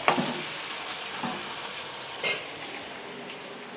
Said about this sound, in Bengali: আমি কুমড়ো চচ্চড়ি বসিয়ে দিয়েছি